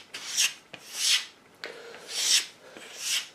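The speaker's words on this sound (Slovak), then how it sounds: "a na to použijeme teda tento nôž, je obťahovanie na koži" A knife blade drawn back and forth across a leather strop, with the blade clamped in a vise, giving four slow rasping strokes in a steady rhythm, close and moderately loud with no talking.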